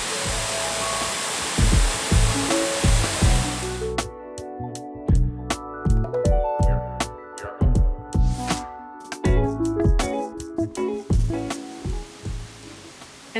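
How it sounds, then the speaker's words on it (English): Waterfall in Furong ancient town, China: a steady, loud rushing roar fills the first few seconds, then gives way to a series of sharp, ringing struck tones. "it has a beautiful waterfall right in the middle of it, which we can already hear before we can even see it."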